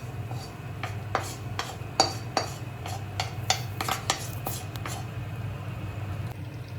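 A metal spoon stirring fried bitter gourd into a pot of boiled potatoes, with a series of light clinks and scrapes against the pot over a low steady hiss, while someone talks.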